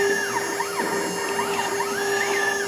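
A CNC carving machine spindle spins up, giving a steady high whine with tones that sweep up and down in repeating arcs, alone and without talk.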